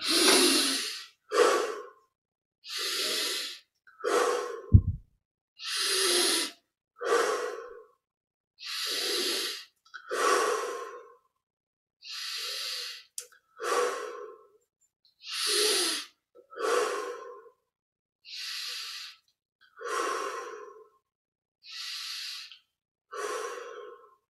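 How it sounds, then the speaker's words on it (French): Slow, deep breaths during a breathing exercise, close and loud, each long inhale and exhale separated by silent pauses, about a dozen cycles in an even rhythm with no talking. "on se penche légèrement vers l'arrière et on respire profondément"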